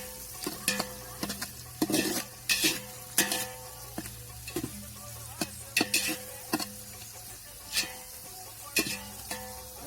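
Onions frying in a pot for a village-style paneer biryani, with repeated stirring scrapes and clanks over a steady sizzle, the strokes coming in irregular bursts close by.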